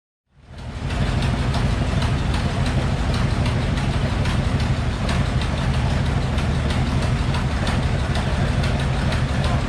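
A heavy diesel tractor engine starts up and runs at a steady, loud, rumbling idle, close by and continuous for the whole stretch.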